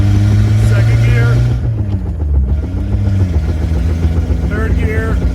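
A Toyota Tercel 4WD wagon with a 4A-C engine pulls in second gear, its steady engine drone rising in pitch with a brief dip as it revs, loud and close throughout.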